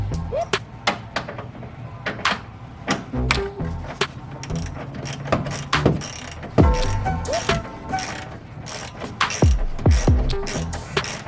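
Ratchet wrench clicking in quick bursts while bolts are worked loose on a car, close and fairly loud, with knocks and metal clanks between the runs.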